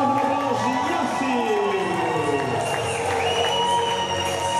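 An audience at a boxing match crowd-cheers and claps for the winner, a steady wash of applause and shouting with music and an announcer's voice over it.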